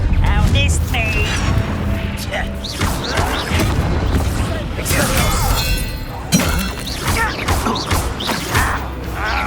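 Confringo fire spell blasts in a Hogwarts Legacy duel, a dense, loud barrage of booms, crashes and shattering impacts running throughout, with voices and combat noise layered in.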